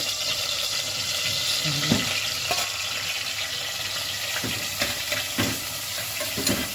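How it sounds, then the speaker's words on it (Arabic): Chicken gizzards fry in ghee in a hot pot, giving a steady close sizzle broken by scraping stirs and a few knocks. "حطيت فيها معلقه سمنه. هنزل اول حاجه بالقوانص بتاعتنا"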